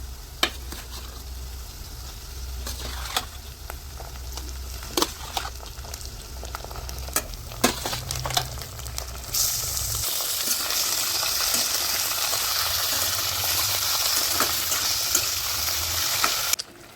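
Chicken hits a pan of fried onions and sets off a steady sizzle, with occasional sharp clicks of stirring; the frying grows brighter and hissier partway through and runs on close and continuous.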